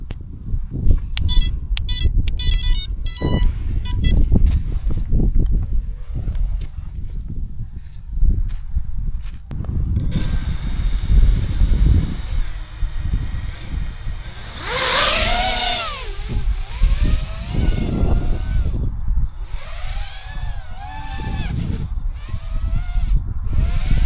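Small quadcopter drone motors whine and buzz, rising and falling in pitch as it flies, with a loud whirring surge midway and clattering noise throughout.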